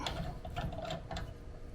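A 15/16 ratchet snugs up the bolt on a hitch clamp against a receiver, giving a series of quick mechanical clicks in uneven bursts, close and moderately loud with no talking.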